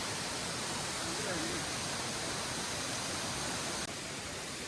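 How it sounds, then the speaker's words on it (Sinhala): A low waterfall on the Seetha river at Eli Hatha Falls near Maliboda, Sri Lanka, dropping into a deep pool, heard as a steady, dense, unbroken rushing hiss close at hand. "ඒක වැඩි උස නැති දියඇල්ල."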